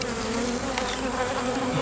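Honeybees buzz densely inside an open, crowded hive box full of brood, a close, continuous, steady hum with no pauses.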